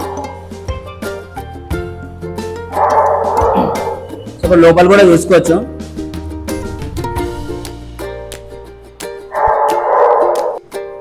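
Dogs at a pet boarding hotel in Hafeezpet, Kondapur, bark in two short bursts, fairly close, while someone talks throughout.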